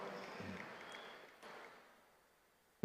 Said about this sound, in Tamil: உற்சாகமாக கைத்தட்டல்களை வழங்கின சகோதரிகள் அனைவருக்கும் என்னுடைய நன்றி